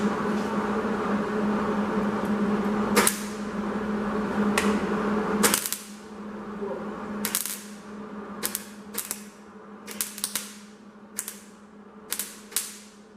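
A wire welder works steel in a series of short, sharp crackling bursts. The bursts are irregular and grow closer together toward the end, over a steady low electrical hum.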